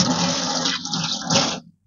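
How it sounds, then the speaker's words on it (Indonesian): Water poured out to rinse a kitchen surface during household cleaning, a close, rushing splash that runs steadily for under two seconds and then stops abruptly. "Siram pakai air."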